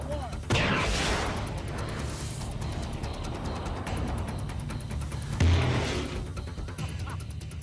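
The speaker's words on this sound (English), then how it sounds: "The explosive charge in this 35-pound barrel lofted at about 60 feet in the air." An explosive charge launches a 35-pound barrel into the air: a sharp blast followed by a roaring rumble, then a second heavy thump, with a voice speaking over it.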